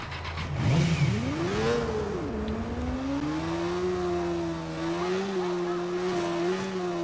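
Motorbike engine in the Watch Dogs video game revving up and holding a steady, rising-and-falling drone, close and loud throughout, with brief pitch swoops early on.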